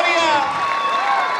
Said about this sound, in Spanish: Ahí está el aplauso, señoras y señores, para el jinete que hizo historia